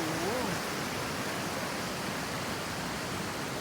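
A mountain stream flows steadily beside a countryside cafe in the rainy season in Bo Kluea, Nan, making a constant broadband rush of water that fills the scene, with a faint voice briefly audible at the start.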